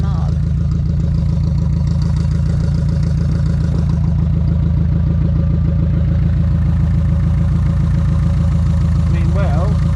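Van engine idling after a loose wire is wiggled on a trip in Córdoba, Argentina, a steady close low rumble with rhythmic clatter, people talking over it.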